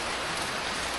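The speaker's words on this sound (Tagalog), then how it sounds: "Umuulan." Steady rain falls as an even, dense hiss of drops filling the whole moment, close and constant with no voices.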